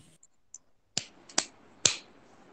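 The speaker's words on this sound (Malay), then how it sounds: "Tepuk tangan untuk semua sekali lagi" A few sparse, sharp hand claps, about four distinct slaps spaced irregularly, faint and isolated, from students clapping in an online Google Meet class.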